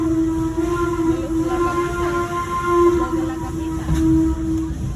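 A locomotive whistle sounds in a long steady tone over the rumble of a moving train at a Pleasanton station, fairly distant, with faint voices in the background.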